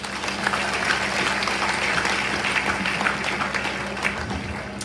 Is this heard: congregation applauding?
yes